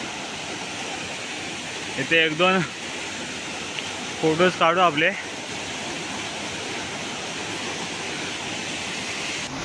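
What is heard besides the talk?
loud rushing water at a rock waterfall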